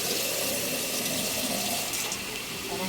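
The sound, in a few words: pouring a little water into the pan while cooking pinakbet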